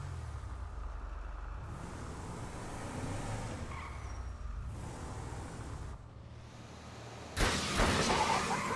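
A car drives in Grand Theft Auto V, a low engine rumble with passing road noise that shifts in intensity, ending in a sudden louder burst near the close.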